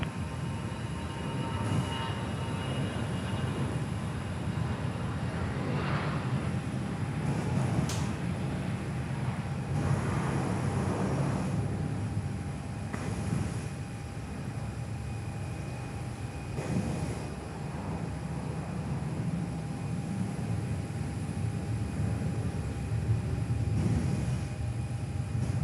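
Airliner Unity 6040 taking off from runway 06 at Perth Airport, a distant, fairly faint jet roar that holds steady and swells slightly throughout, with no voices.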